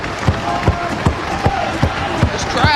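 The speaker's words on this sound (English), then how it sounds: "This crowd really getting behind Daniels and Styles." Crowd noise at a TNA professional wrestling house show during a tag team match featuring AJ Styles and Christopher Daniels, a steady roar punctuated by a regular series of loud thumps, likely stomping or slams, repeating about every 0.4 seconds.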